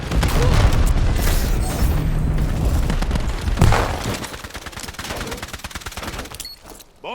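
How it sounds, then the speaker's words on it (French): In Call of Duty Black Ops 7 multiplayer, a sticky bomb detonates amid loud, dense gunfire and booming blasts, followed by rattling bursts of shots that gradually thin out. "Je lance une bombe collante."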